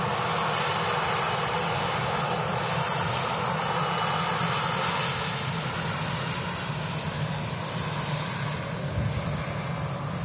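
An EasyJet Airbus A320 airliner at Manchester Airport, a steady broad engine roar and rush holding loud and constant, with wind-like noise and no clear pass-by peak.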